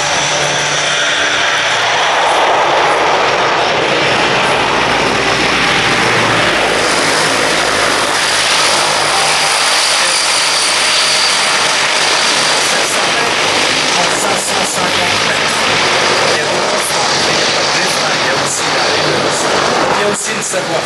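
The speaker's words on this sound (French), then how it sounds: "Allez, remise de gaz en touche." Transall C-160 military transport plane doing a touch-and-go go-around at an airshow, its turboprop engines swelling into a loud, sustained roar that fills the whole stretch as power comes up.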